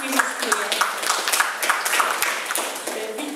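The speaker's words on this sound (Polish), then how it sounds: "Proszę o brawa, bo to takie miłe, nic nie kosztuje." Applause from residents gathered at a town meeting in Ryglice, Poland, a steady crackle of many hands clapping throughout, with a voice speaking over it.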